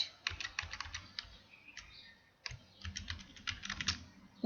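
Rapid bursts of keystrokes on a computer keyboard while entering text in MS PowerPoint, close and clear, in uneven clusters with short pauses between them and no talking.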